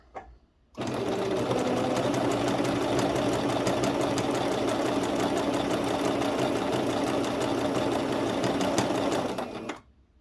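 A sewing machine stitches fabric held against the seam guide, giving a loud, fast, even mechanical chatter that runs steadily for about nine seconds before stopping, with no talk over it.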